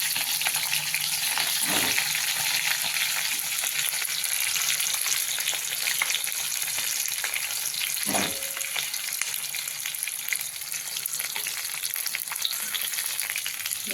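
Stuffed long capsicums sauté in hot oil in a pan over low heat, a steady close sizzle and crackle with a couple of brief stirring scrapes, and no talking.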